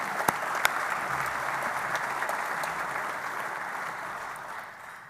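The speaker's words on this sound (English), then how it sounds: "Let's have a round of applause for that particular program." Audience applause at a Hydro One corporate event, a steady wash of clapping from a sizeable crowd with a couple of sharp nearby claps at the start, fading slightly toward the end.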